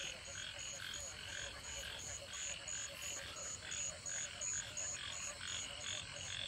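Frogs croak in a flooded field after heavy rain, a dense chorus of rhythmic, pulsing calls at moderate distance over a low background hum, with no talk.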